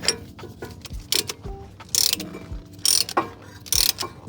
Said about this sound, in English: grab one of these brake pad spreader tools